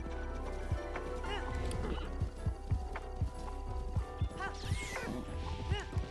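Horse hooves clip-clop in a steady galloping rhythm in a video game, sitting under a bed of game music and effects with occasional whinnies, moderately loud throughout.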